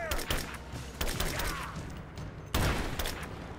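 Rifle shots from the Rise of the Tomb Raider video game, several sharp reports at roughly one-second intervals, each cracking out and decaying over a busy layer of game ambience and effects.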